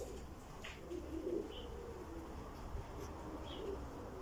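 Uzbek pigeons coo in soft, low, repeated murmurs over a steady background hum, with a few faint chirps from other birds and no talking.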